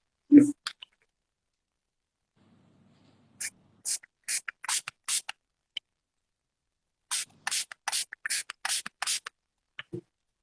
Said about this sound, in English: what I'm going to do here is spray water on this hand and spray water on the untreated hand as well